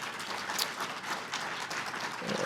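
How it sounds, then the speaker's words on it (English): Audience applause for the hosts at a small business policy event, a steady wash of many hands clapping at moderate, fairly quiet level for the whole stretch, with no voices on top. "so let's please give them a round of applause."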